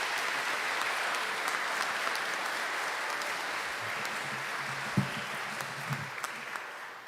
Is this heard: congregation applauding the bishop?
yes